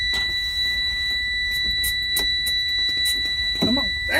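A truck's low air pressure warning alarm sounds during a brake test, a loud continuous steady buzzing tone over a low engine rumble, with a few knocks and brief noises.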